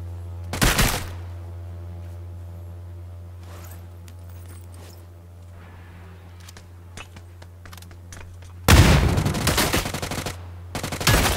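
Automatic gunfire in PUBG New State Mobile erupts in a short close burst, then falls away to a low steady hum before a longer, loud rattling burst of rapid shots returns near the end.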